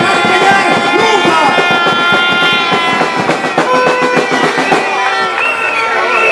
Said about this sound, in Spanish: Recibamos con un fuerte aplauso a este valiente guerrero